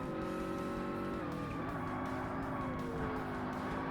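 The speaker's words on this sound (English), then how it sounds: "I don't think that the engine sounds quite right." Race car engine in a Forza Motorsport A Class race, a steady loud drone with a brief dip in pitch at a gear change and some faint tire squeal, heard alone without talk.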